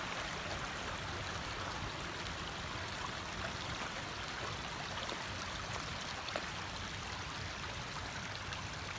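Spring water pours steadily down rock near a cave in Savage Gulf on a cold day, several inches deep, a constant close rushing and splashing that fills the whole clip with no pauses.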